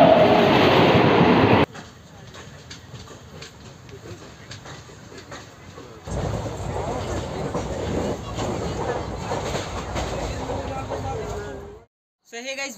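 The Chetak Express, hauled by a WAP-7 electric locomotive, rumbles steadily on the rails in a moderate, continuous roll that shifts in loudness partway through, with a voice talking over it.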